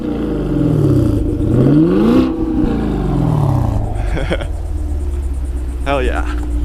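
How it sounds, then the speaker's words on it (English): A Chevrolet Camaro SS engine revs with launch control engaged, rising and falling in loud close bursts inside the car while occupants talk over it. "You wanna get a little rev really quick?"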